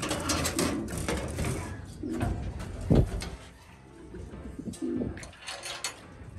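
Pigeons coo in low, repeated throaty calls at close range, mixed with wing flutters and rustling.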